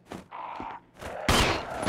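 Gunfire in Resident Evil HD Remaster, a few sharp close shots and bursts with echoing tails, separated by short gaps, the last blast loudest.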